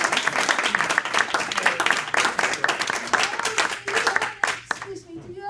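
Audience claps for Rose at an informal community gathering, a brisk stretch of scattered hand clapping from a small group that fades near the end as voices break in.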